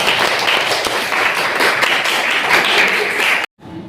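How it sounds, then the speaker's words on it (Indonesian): Classmates in a school classroom clap for group 2 after their presentation, a dense burst of hand claps lasting over three seconds before cutting off abruptly into near quiet. "Tepuk tangan untuk kelompok 2."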